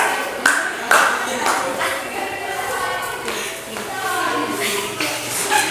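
Classmates clap for a student group during a school lesson, a dense patter of hand claps that rises and falls with voices talking through it.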